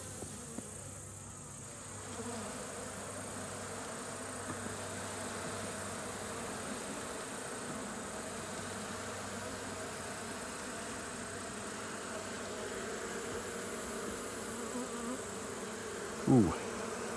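Honey bees buzzing in a hive after smoke is applied, a dense continuous drone close by and steady throughout, with no talk.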